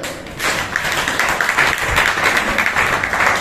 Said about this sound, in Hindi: एक बार अपने ताली बजा लें।